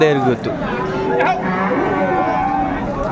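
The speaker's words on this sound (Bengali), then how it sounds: "শাহিওয়াল বাচ্চাগুলো যেখানে বেচা কেনা হচ্ছে আমরা সে জায়গায় রয়েছে সুঠাম দেহের গরু" Cattle moo repeatedly, close and loud, over a busy murmur of a crowd and livestock in the background at a livestock market in Kurigram, where Sahiwal bull calves are sold.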